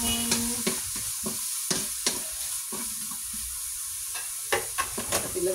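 Shrimp sizzling in a frying pan as laing is cooked, with a steady hiss of frying under repeated scraping stirs of a utensil, close and continuous.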